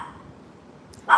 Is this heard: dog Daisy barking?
yes